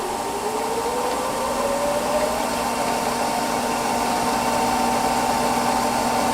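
A treadmill motor driven by a DC motor controller whirs steadily in a smooth electric hum, its pitch climbing briefly at the start before settling, with no voices.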